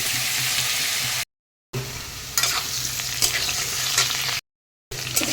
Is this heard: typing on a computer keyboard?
no